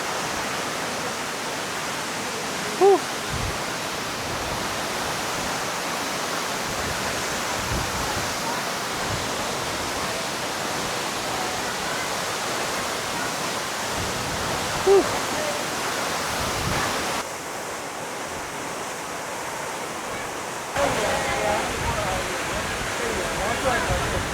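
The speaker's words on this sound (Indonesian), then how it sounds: "Gede banget anginnya." Strong wind rushes at the Curug Bidadari waterfall in Sentul, a loud, steady broadband roar that blends with falling water for the whole stretch, with a couple of faint clicks.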